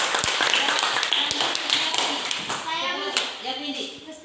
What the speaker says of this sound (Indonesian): tepuk tangan untuk Tika